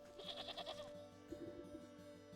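Two short wavering goat bleats in the video game Wytchwood, over a quiet synthetic musical background; the first is higher and brighter than the second.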